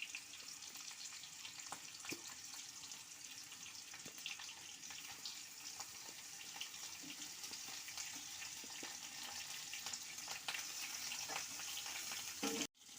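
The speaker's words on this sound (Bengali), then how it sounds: "আগে আমি আলু, বেগুন, কুমড়োটাকে ভালো করে ভেজে নেব।" Potato, eggplant and pumpkin frying in hot oil in a village kitchen make a steady, faint, hissing sizzle with scattered crackles that holds throughout and breaks off at the very end.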